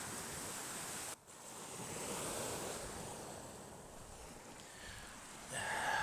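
Sea waves washing onto the shore during a cold-weather coastal hike, a soft continuous surf with gentle swells and wind noise, faint and distant.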